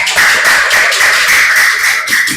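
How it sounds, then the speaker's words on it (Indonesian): A classroom of students claps in applause for a presenting group. The clapping is loud, dense and continuous, with a shrill ringing tone running through it. "Ya, tepuk tangan."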